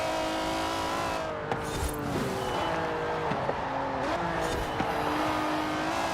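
BMW 850CSI racing in Forza Horizon 4 on an A-class road race, steady loud engine drone with shifting revs and brief tire squeal and skid bursts, no talking over it.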